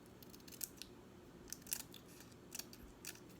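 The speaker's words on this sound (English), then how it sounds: "Trim this off a little bit." Scissors trimming paper for a Halloween Polaroid craft embellishment, a few quick faint snips spaced through a quiet room, with no talking.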